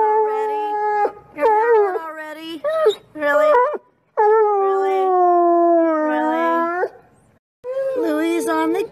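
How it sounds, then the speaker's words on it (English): A dog gives long, drawn-out howls and wails indoors, close and loud, with sustained tones broken by short gaps. "You just got here and you're howling already."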